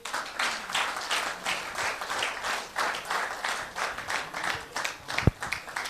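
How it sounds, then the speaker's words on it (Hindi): Audience applause at a business gathering, many hands clapping in a rhythmic, pulsing pattern, moderately loud, with a sharp knock near the end. "इन खोजियों के लिए तालियां होनी चाहिए।"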